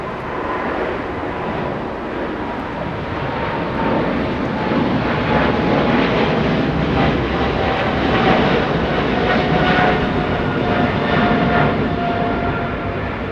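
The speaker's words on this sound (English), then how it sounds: "Japan 61, Japan Airlines 61, heading to Tokyo Narita. Big 777. Giving us amazing sound." A Japan Airlines Boeing 777 jet airliner bound for Tokyo Narita roars loudly and steadily at Los Angeles International Airport, a close, sustained engine rumble.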